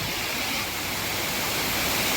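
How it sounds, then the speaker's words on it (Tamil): Silver Falls waterfall in Kodaikanal roars as a loud, dense, steady rush of falling water, close and unbroken. "எங்க இதுதாங்க ஃபால்ஸ்."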